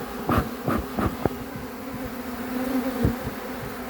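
Honeybees swarm out of a hive inside a huge tree, a continuous buzzing drone with several close insects zipping past the listener in brief loud passes.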